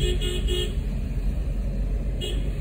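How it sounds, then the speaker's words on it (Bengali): A car horn honks from a vehicle behind on an empty road at night, heard from inside a moving car: a short burst of toots at the start and another a couple of seconds later over steady road rumble. "পিছনে গাড়িটা হর্ন বাজিয়ে যাচ্ছে"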